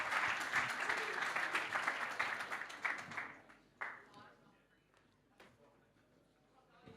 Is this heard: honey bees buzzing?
no